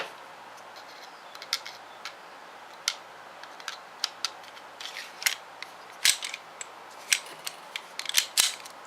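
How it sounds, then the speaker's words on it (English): An Astra A-100 9mm pistol is handled on a tabletop, giving a series of sharp metallic clicks and snaps at uneven intervals, growing denser and louder toward the end, close up with no voices. "Lock it back, rotate it back around, drop the slide, and that's it for the pistol."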